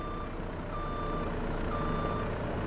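Steady repeating reversing beeps from a tractor backing up to hitch a trailer in a farming video game, clear electronic tones over a constant engine rumble.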